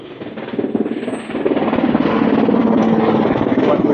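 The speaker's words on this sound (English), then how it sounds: "some kind of helicopter mission" A helicopter's rapid rotor thumping over the main street of Ixia on Rhodes, Greece, growing louder as it approaches and then holding steady nearby.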